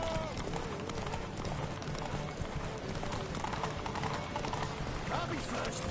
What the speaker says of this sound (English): His horse is just faster.